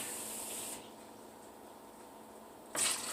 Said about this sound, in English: I want to add some water first